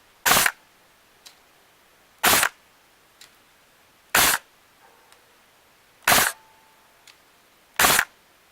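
Krytac Kriss Vector airsoft AEG firing five sharp, evenly spaced bursts close by, each a quick double crack so tight the two shots nearly merge, followed by faint mechanical clicks in the quiet gaps.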